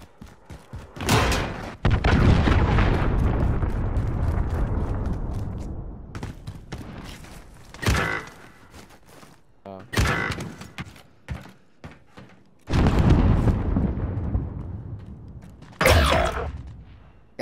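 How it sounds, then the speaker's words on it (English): Heavy booming blasts from enemy cruise missiles in a multiplayer shooter video game, several loud impacts in bursts with rumbling decay between them. "Enemy cruise missile incoming."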